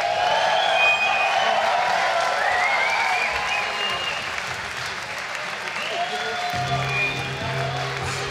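A crowd at the Tampa Pro 2018 skateboarding finals applauds steadily with scattered cheers, the clapping sustained and fairly close, while an announcer speaks over it.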